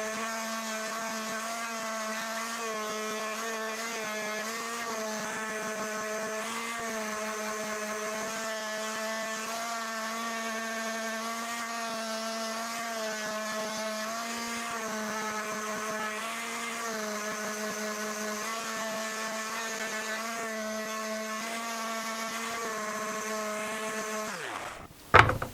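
A power sander works over raised wooden panels in a home workshop, giving a steady, loud motor whine with a strong constant hum that runs unbroken for about twenty-five seconds and then cuts off abruptly.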